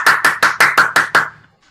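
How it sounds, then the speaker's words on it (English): Online meeting participants, unmuted, clap in seven loud, evenly spaced claps, each sharp and close with a slight ring, before the sound quickly dies away into silence. "Let's give a real round of applause."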